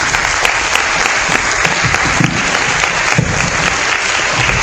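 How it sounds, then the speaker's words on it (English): An audience at a Fresno Palestine forum applauds the panelists with loud, dense, continuous clapping that fills the room and stays steady throughout. "let's give a larger, more loud and thunderous round of applause for all of the panelists this evening"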